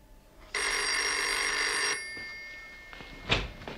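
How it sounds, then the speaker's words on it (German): A telephone rings once with a bright, sustained electric bell tone lasting over a second in an indoor scene from a German crime drama, followed by quieter room noise and a soft knock. "Telefon."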